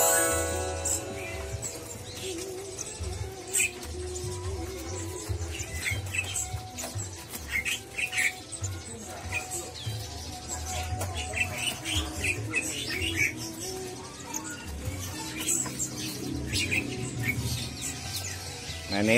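Caged songbirds, including Java sparrows and zebra doves, chirp at a bird market kiosk. Busy, overlapping tweets and calls run throughout over a steady background of market bustle.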